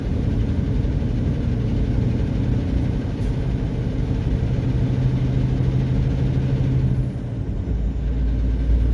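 A pickup truck engine pulls hard from about 25 mph on a road with a small hill, a loud continuous low drone that climbs gradually, with no talk over it.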